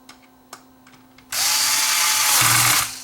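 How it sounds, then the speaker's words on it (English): A power screwdriver whirs steadily for about a second and a half while backing screws out of a vintage GE C4390 clock radio, after a few faint clicks and taps, close and loud. "I'm liking the screwdriver. It makes short work of"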